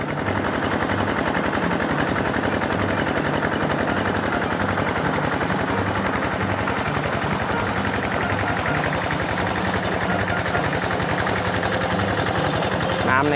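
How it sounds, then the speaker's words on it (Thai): Steady, loud drone of a Kubota engine driving a pump that draws water up from a canal beside rice fields, a continuous rattling roar without letup. "เราจะใช้ เครื่องคูโบต้านะครับ สูบน้ำจากคลองคอยน้ำขึ้นมานะครับ"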